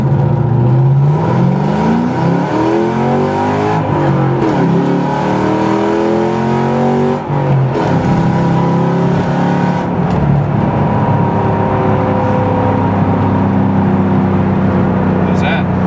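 A Ford Mustang's engine is revved with the brakes held on, the pitch climbing and falling in repeated surges, loud and close, with brief pauses between bursts.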